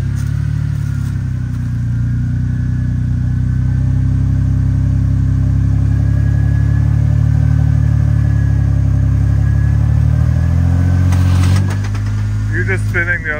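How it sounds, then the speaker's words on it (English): Off-road vehicle engine on a Windrock Park trail, steady loud low idle-to-rev drone throughout with tires spinning, people talking over it. "You're just spinning the other tires."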